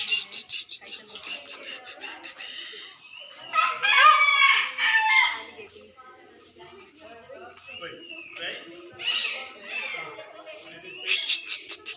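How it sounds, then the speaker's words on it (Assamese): A peacock at Pilikula zoo gives loud, harsh calls peaking around the middle, over crickets and other birds, with people talking in the background. "ময়ূৰ চৰাই, ময়ূৰ চৰাই, ময়ূৰ চৰাই"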